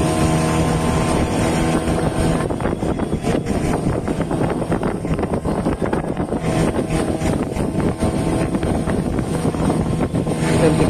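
A hired boat out on Khandoli lake, its motor running as a steady, fairly loud drone throughout, with wind buffeting the microphone.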